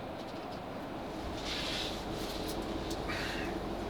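A low, even rumble fills the interior of a South Western Railway Class 458 train as it runs along the line near Wandsworth Town, with a couple of soft hissy bursts over the quiet cabin noise.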